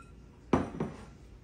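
Two clinks of a utensil or dish against a bowl while transferring plum dumpling ingredients into a bigger bowl, a sharp knock followed by a softer second tap a moment later, close and otherwise quiet.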